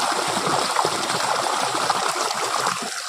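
Irrigation water rushes and gurgles steadily through a farm pipe as its valve is being closed, a loud continuous flow that eases slightly near the end.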